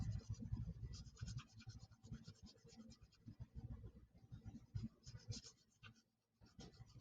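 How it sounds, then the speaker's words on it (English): A pencil lightly shades on paper with close, quiet, continuous scratchy strokes that rise and fall in short repeated passes, briefly pausing near the end. "so I'm lightly shading in here"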